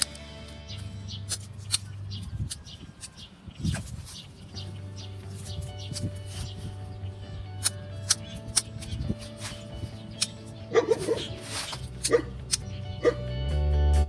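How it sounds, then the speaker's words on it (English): A dog barks in short, sharp yaps scattered through a quiet garden scene during hydrangea pruning, heard at a moderate distance with faint clipping and bird sounds around. "And here's our barking dog."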